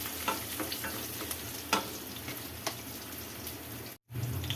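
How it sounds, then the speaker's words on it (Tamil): Bits of garlic sizzle and crackle steadily in hot oil, with scattered pops and a brief stir, fairly quiet and close. "நான் பொடியாக நறுக்கி போட்டிருக்கேன். இது நல்லா ஃப்ரை ஆகட்டும்."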